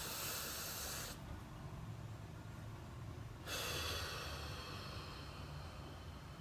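Deep belly breathing demonstrated during actors' vocal warm-ups: two long, loud breathy hisses of air drawn in and pushed out, separated by a quieter pause, close and alone with no talking.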